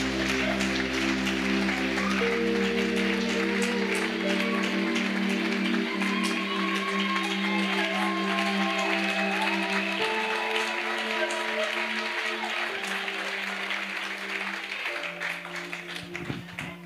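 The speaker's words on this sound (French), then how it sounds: "Acclamez Jésus-Christ. Clap, let's clap for" A church crusade audience claps for Jesus, a dense, continuous wash of applause lasting the whole stretch, loud and steady over sustained organ or keyboard chords, tapering slightly near the end.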